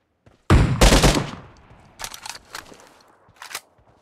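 Video game gunfire: a loud burst of rapid shots up front, then scattered single shots and short bursts trailing off, with no talking.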